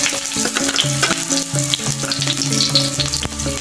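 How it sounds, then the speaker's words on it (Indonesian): Shallots, garlic and galangal sizzle in hot oil, a dense continuous crackle with occasional stirring scrapes, close and loud. "Setelah dipastikan minyaknya mendidih, kita masukkan ya bahan yang hendak kita tumis ya"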